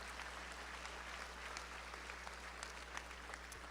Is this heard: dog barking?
no